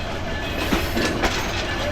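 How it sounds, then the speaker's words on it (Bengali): The Rangpur Express train rolls into the platform at Santahar junction station, giving a steady, close rumble of rail cars with faint clacking and a couple of soft knocks around the middle. No one speaks. "এই যে আমাদের ট্রেন ঢুকছে সান্তাহারের প্ল্যাটফর্মে।"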